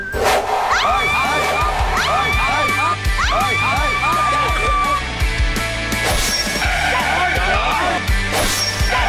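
A studio crew cheers, shouts and whoops loudly and continuously, a lively crowd din with scattered bangs and claps throughout.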